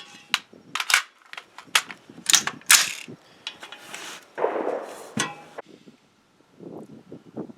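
Loud, sharp cracks from an AR-15 shooting Federal 55 grain 5.56 rounds come in an irregular series at an outdoor range, mixed with mechanical clatter and handling noise.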